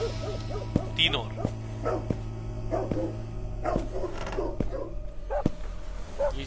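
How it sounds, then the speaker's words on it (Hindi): A dog barks repeatedly in short yelps at a steady pace, somewhat distant, mixed with a voice and sharp periodic clicks. "मतलब कुत्ते की भौंकने की आवाज आ रही"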